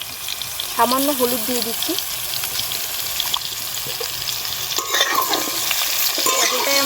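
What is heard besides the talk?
frying pointed gourd pieces in a pan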